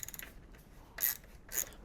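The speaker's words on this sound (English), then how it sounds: "Next we are removing the cam locking tool" A cam locking tool is removed from an Audi V8 4.2 FSI engine, giving faint light ratcheting clicks followed by two short metallic scrapes or clinks, close and quiet.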